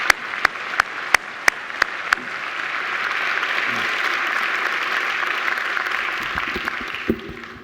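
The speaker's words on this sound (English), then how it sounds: "I think she deserves another great round of applause." A graduation ceremony audience breaks into applause after a few loud, isolated early claps, then builds into sustained, even clapping across a large hall before thinning out near the end.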